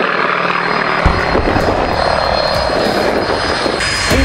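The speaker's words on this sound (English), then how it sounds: "Watch also, if you can, the airplane taking off now. This is the FM2 or the F4F Wildcat." A Grumman F4F Wildcat (FM2) fighter taking off at the Wings Over Houston airshow: a loud, steady piston-propeller drone fills the whole stretch, with a rough, rumbling roar.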